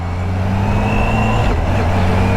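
A 2023 Kawasaki H2 SX motorcycle pulls away, its engine a steady, loud drone with a low rumble that holds through the moment without any sharp rise.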